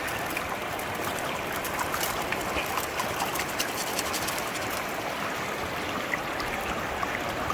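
A scoop of river gravel being washed through a gold sluice box on a gravel bar, water rushing loudly and steadily over the riffles with a constant churning splash close by.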